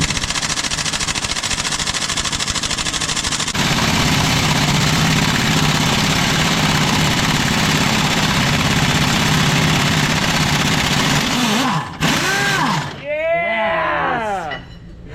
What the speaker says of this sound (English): Now we're hoping that our 1-inch impact will hopefully spin that thing out